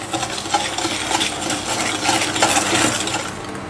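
Egg yolks and sugar being whisked vigorously in a bowl for crème brûlée, a steady scraping, clinking whisk rhythm close up and fairly loud, with no talk over it.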